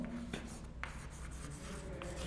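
Handwriting on a board or paper while noting an equation for the cathode reaction, faint continuous scratching and rubbing strokes with brief accents, quiet and close, no talk over it.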